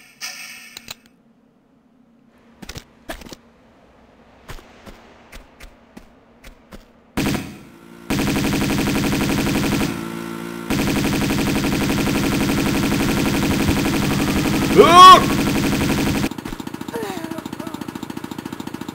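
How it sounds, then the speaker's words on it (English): Enemy gunfire in Tomb Raider II Remastered: a few scattered sharp shots, then a sustained loud burst of rapid automatic fire that runs for several seconds with a brief break, ending in quieter rattling. "Wow, they do some damage with their guns."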